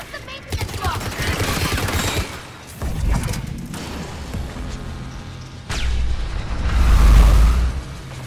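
Sci-fi battle gunfire from Mass Effect 3: bursts of rapid shots and booming impacts come in waves, loud and dense, fading briefly in the middle before another heavy, rumbling volley near the end.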